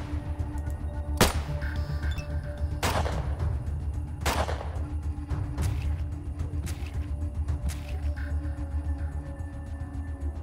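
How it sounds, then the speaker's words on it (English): Several loud, sharp gunshots ring out in the post-apocalyptic RPG A.T.O.M., spaced irregularly over a steady low rumble of ambient game noise, with no talking. "And start shooting it."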